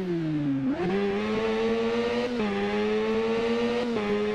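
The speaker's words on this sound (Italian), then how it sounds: "È scalpita questa moto, ragazzi, è ruggente." A motorcycle engine in the racing game Ride holds a steady, loud, close roar, with short dips and climbs in pitch at each gear shift, and no voices.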